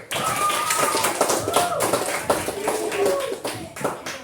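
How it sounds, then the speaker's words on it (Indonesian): A classroom of students applauds in a steady, dense patter of clapping for a group presentation, with a few voices calling out over it. "Kita beri tepuk tangan"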